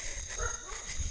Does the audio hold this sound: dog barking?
yes